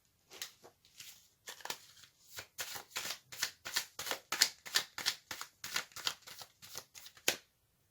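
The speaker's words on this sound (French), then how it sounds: "Je vais tirer maintenant une carte conseil." A tarot deck being shuffled by hand, a long series of soft, close riffling card flutters in an uneven rhythm, quiet and without talk.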